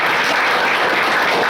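Audience applause in a Hindi-language talk on body and life safety, a dense, steady patter of clapping filling the room for a second and a half with no voices.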